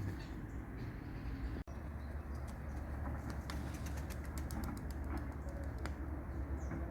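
Takkalı pigeons giving soft, faint cooing calls and occasional light wing sounds over a steady low background hum, with one sharp click partway through.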